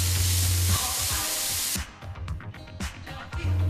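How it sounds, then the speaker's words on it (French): Onion and lardons fry in olive oil in a pan, a loud hissing sizzle for the first couple of seconds, then quieter crackling with light stirring scrapes and a low background hum. "Quand l'oignon est devenu transparent et après une légère coloration, ajoutez les lardons et laissez cuire encore 3 minutes"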